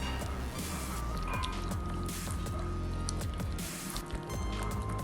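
Thick gram flour and rice flour batter for fish bajji is mixed by hand, giving a steady, close, wet squishing and slapping that continues throughout with small dripping sounds.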